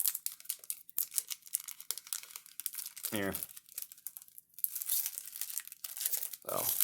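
An Ikoria trading card booster pack wrapper crinkles and tears open by hand, close and crisp, with sustained crumpling rustles; a voice speaks briefly twice partway through.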